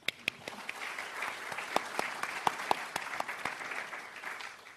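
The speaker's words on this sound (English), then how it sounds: "Let's give you a round of applause first." Audience applause at a talk about sleep, fairly quiet and scattered with distinct sharp claps standing out over a softer ongoing patter.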